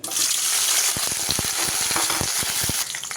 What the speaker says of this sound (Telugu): ఇది ఆయిల్ వేడైపోయింది మిరపకాయలు వేసుకోవాలి